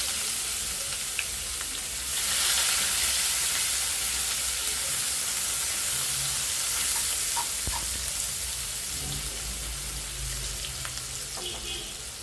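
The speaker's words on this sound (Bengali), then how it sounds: "এখন একই প্যানে আমি দিয়ে দিচ্ছি কিছু কুচি করা পেঁয়াজ" Chopped onion fries in a pan already used for potatoes, a steady loud sizzle that swells and hisses for several seconds with faint stirring scrapes and no talk.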